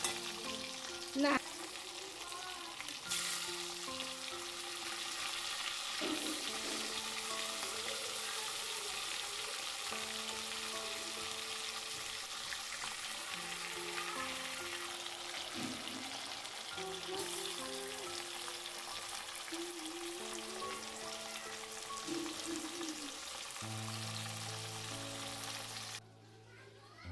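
Pieces of hilsa fish sizzle as they fry in smoking hot oil in a wok, a steady close crackle and hiss lasting throughout, with a voice and tonal background sounds faintly underneath.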